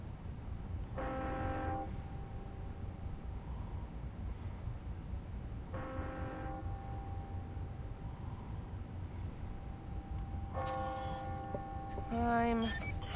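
Church bells ring on the hour in the Spider-Man: Miles Morales game city, bright tolls struck in separate bursts over a steady low hum of ambient city noise, with a louder cluster near the end.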